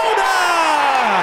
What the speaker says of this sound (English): Oh, the crowd love that one.